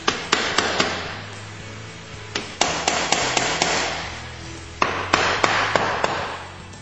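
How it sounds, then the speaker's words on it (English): Light taps from a soft mallet on the CVT cover of a GY6 scooter engine: about a dozen sharp, close knocks in loose clusters over a low background hum. "Grab a persuader. Now make sure you use something soft."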